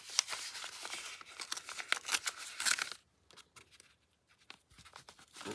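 Paper and cardboard dragged and crinkled out of a tight envelope: a busy run of scraping, tearing and rustling up close for about three seconds, then quieter scattered crinkles and taps.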